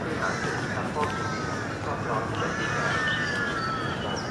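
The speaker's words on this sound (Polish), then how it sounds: "krakają." Crows caw in Lumpini Park, Bangkok, with a few rough calls rising over steady urban park background noise at moderate distance.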